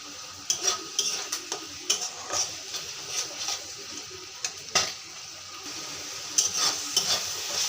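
Spices frying in a pan for a meat curry with half a cup of tomato added, a soft steady sizzle broken by stirring scrapes and clinks close by, no talking.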